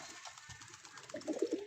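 A high-flying Giribaz pigeon in a loft gives a faint, soft coo that rises near the end of a quiet second or two, with no voices.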